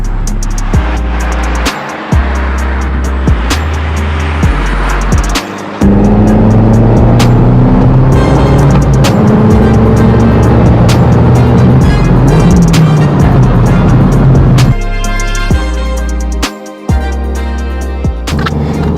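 An Abarth 500 Esse Esse car engine drives loud and close, running through several gear changes with short drops in level and rising pitch between shifts.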